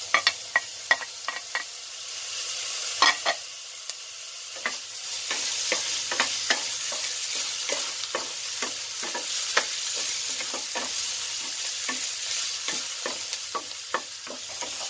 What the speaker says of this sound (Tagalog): Ngayon ilagay ko na ang ating onion.